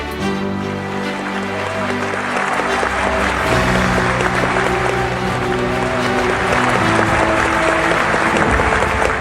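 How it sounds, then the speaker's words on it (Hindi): Audience applause at a corporate award ceremony in India, sustained loud clapping from a large crowd filling the hall, with a voice and music-like tones underneath. "Everybody make some noise!"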